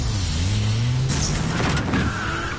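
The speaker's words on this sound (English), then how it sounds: "Driving a little angry there, Bruce." A car from Batman: The Telltale Series, Bruce Wayne's car, drives fast with a steady close engine drone and a rising pitch, then a whooshing surge and a hiss in the second half, with no voices.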